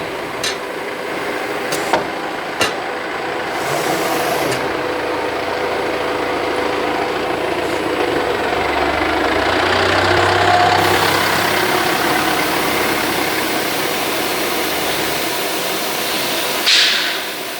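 An automatic labeling machine swaps tools T7 and T12 with a steady mechanical hum, a few sharp clicks at the start and a rising whir midway, with no voices.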